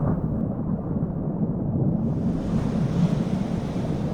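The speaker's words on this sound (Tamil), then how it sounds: "அப்பொழுது திடீரென்று பலத்த புயல் காற்று மற்றும் மழை பெய்ய தொடங்கியது." A sudden, powerful storm at sea strikes a ship, with a steady roar of strong wind and rain and rumbling thunder, loud and continuous throughout with no voices.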